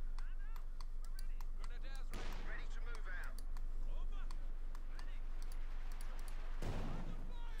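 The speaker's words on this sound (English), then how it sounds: "Artillery fire there against the section" Artillery fire in Company of Heroes 2 sounds as loud bursts of shelling over a dense wartime game soundscape with crackling gunfire, while a commentator talks throughout.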